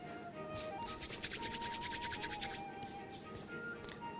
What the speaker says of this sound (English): So I'm going to rub this together, and this is the classic method, the rubbing in method, until it looks like breadcrumbs.